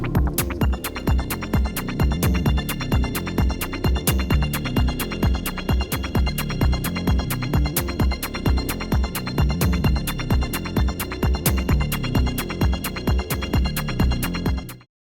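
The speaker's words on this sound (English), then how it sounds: "I think I started off with blip pad but ended with glitter on the final cut." An arpeggiated 8-bit synthesizer pad in GarageBand: a bright, glittery pattern repeats in fast, even pulses over a steady beat, playing continuously at a strong level for about fifteen seconds.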